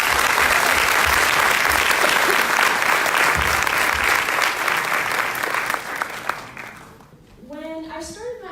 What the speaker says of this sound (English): So please give a round of applause for that.